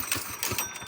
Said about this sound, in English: I'm really hoping it starts after sinking in the lake. One pull, you know the rules.